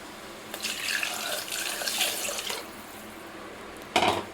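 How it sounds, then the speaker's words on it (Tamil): Tamarind water pours and splashes into a pan of fish curry for a couple of seconds, then stops briefly before a short final splash. "இந்த நேரத்தில் நம்ம புளி கரைசலை இதோடு சேர்த்துக்கலாம்."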